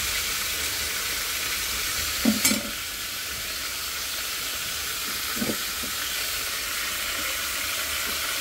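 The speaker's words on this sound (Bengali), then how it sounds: "আর এখানে আছে যে মাছ ভাইজা নিচ্ছি, একটু কড়া করিয়ে ভাবছি" Fish fries in a pan with a steady, loud sizzle and hiss throughout, broken by a couple of brief stirring clinks, and no voices.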